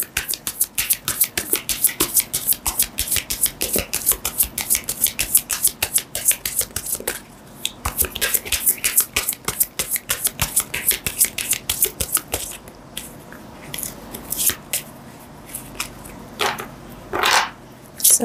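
Tarot cards shuffled by hand in quick, dense riffling bursts for several seconds, then slower scattered flicks and taps as cards are laid and drawn, close and crisp, with no talk.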